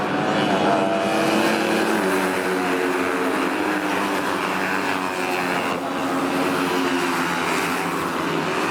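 A pack of racing motorcycles in an endurance race rolls past on a rolling start, a loud, continuous engine roar that holds steady throughout without any speech.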